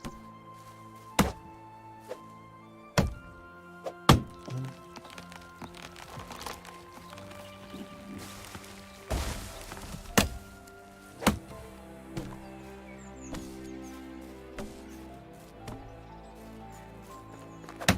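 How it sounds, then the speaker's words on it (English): Sharp, woody axe chops strike trees in the video game Medieval Dynasty, about a dozen loud thunks at irregular intervals over steady background music. "Never has destroying trees been so satisfying"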